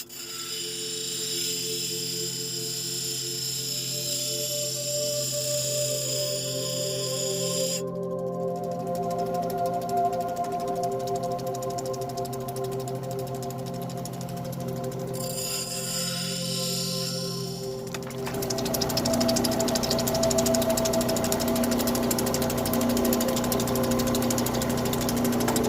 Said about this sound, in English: Put it onto the heavy wheel, it's going to be noisy.